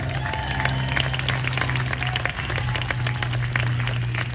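Audience applause for student award recipients at the 2024 Army War College graduation ceremony, steady dense clapping throughout under a low constant hum, moderately distant and even in level.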